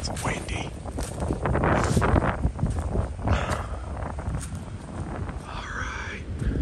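Gusty wind buffets the microphone on a cold lake nature trail at high water, a steady low rumble that swells and eases throughout, with a few soft rustles and possible footsteps near the end.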